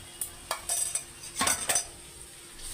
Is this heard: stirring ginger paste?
yes